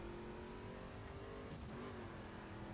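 A race car speeds up the Pikes Peak course in the video game The Crew, its engine a faint steady drone with a rising rev partway through, heard alone without talk.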